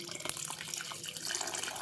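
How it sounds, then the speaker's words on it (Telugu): Hot water is poured over goat tripe during cleaning, a continuous close splashing gush with no talking. "వేడి నీళ్ళు పోసేసుకుందాం."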